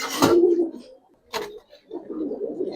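Chorachok-type Giribaz coloring pigeons give a close, low cooing burst, then a shorter coo and a softer, murmuring run of cooing after a brief pause.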